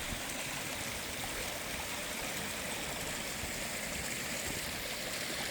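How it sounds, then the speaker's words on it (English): Three waterfalls in a backyard Aquascape koi pond pour in a steady, even rush of splashing water that holds an unbroken hiss from start to finish with no voices. "So we got 3 waterfalls."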